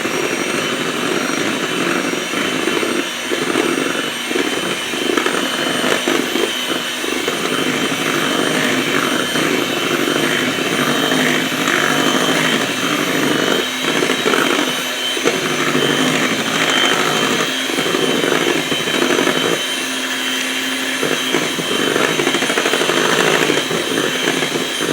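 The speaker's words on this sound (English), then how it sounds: "we're also going to blend this together" Blender whirring continuously as eggs are mixed into keto lemon bread batter, a loud, close, steady motor drone with slight fluctuations throughout.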